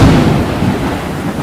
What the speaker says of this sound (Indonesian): makin malam hujan turun semakin deras dengan disertai angin kencang dan petir